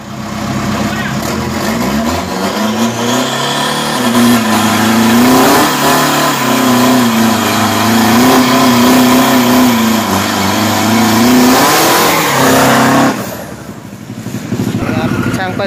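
A turbocharged 2,500 cc race car engine revving during practice on a 402 m drag strip: loud and close, climbing and then holding a high, sustained roar before dropping off near the end.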